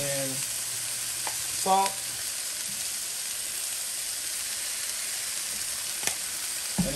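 Seasoned chicken frying in a pan for Cajun chicken alfredo gives a steady, close sizzle through the whole stretch, with a few brief clinks and a short spoken word partway in.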